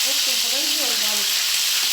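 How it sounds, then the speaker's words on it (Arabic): Stuffed eggplant fries in hot oil with a continuous loud sizzle and crackle close by. "هقلي محشي البرنجان برضك على قد ما احنا ناكل"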